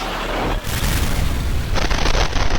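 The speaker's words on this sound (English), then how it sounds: "Missiles streaking over the horizon like bangers and mash." A missile blast sound effect: a loud, dense, rumbling roar of explosion noise that keeps going with a rough, crackling texture throughout, standing alone without speech.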